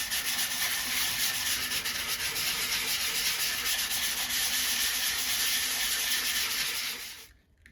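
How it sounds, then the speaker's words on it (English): Dried wood putty filler sanded with 120 grit sandpaper on a 3D printed bust, a loud continuous raspy scrubbing with quick back-and-forth strokes that stops abruptly at the end. "grab some more 120 grit sandpaper and begin removing the dried filler"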